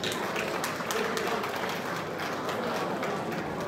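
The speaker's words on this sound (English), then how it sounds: "A round of applause, please." Audience applause at a 70th anniversary gathering for Akatakyie in the UK, as a sponsor, Alote and Alote Solicitors, is welcomed: steady dense clapping filling the room throughout, moderately loud and unbroken.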